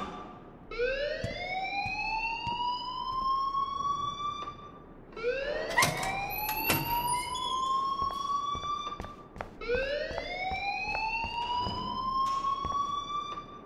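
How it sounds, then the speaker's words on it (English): A school alarm in Life is Strange wails in rising sweeps, three long cycles in a row, loud and steady with faint clatter underneath. "please turn off that alarm"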